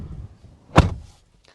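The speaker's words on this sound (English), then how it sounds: "closing up the door here" A single solid thud of a 2025 Toyota Camry XSE door shutting, heard close up inside the car, with a short muffled rumble before it and quiet cabin afterwards.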